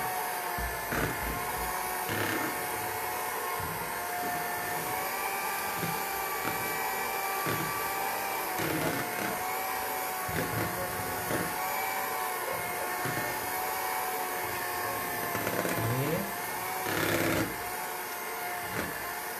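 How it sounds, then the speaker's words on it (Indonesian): Electric mixer running steadily at low speed through brownie batter, a continuous whirring motor hum with slight rhythmic scraping, close and unbroken throughout. "ini boleh langsung di mixer tapi dengan kecepatan rendah ya."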